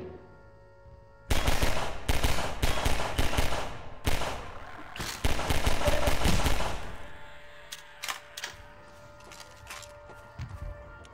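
SMG fire in the video game Half-Life 2: several loud rapid bursts of automatic shots close by, pausing briefly between volleys, then tapering into scattered fainter shots and quieter game sounds.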